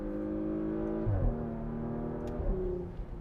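A 2021 Porsche Macan GTS engine revs up and drops back in quick blips on downshifts, pitch falling and rising with each downshift, loud and close.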